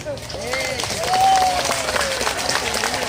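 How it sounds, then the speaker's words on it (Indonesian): Audience clapping at a religious sermon event honouring a mother, a moderate round of applause under a sustained vocal tone and background voices, fairly close and steady throughout. "Tepuk tangan dulu buat ibu."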